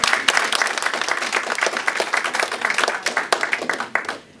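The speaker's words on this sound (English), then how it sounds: "Let's give Christine a round of applause." Audience applause at the inaugural meeting of the Long Island Gay PTA, a dense burst of many hands clapping close by, steady and loud for about four seconds before fading out at the end.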